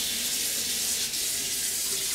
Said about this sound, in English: The hot water is working.